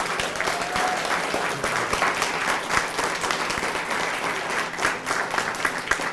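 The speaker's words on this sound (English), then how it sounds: "let's give one more round of applause for this recipient and all our recipients today." An audience at an education awards announcement claps in steady, dense applause for a recipient, sustained throughout without pause.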